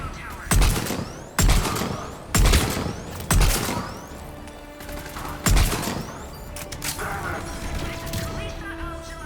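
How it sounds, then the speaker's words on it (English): Bursts of rapid gunfire in the video game Mass Effect 3 ring out in several sharp volleys, separated by short gaps, with mechanical clatter and a lingering hum afterward. "The gunfire behind me."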